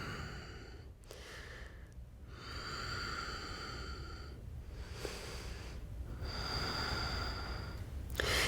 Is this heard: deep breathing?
yes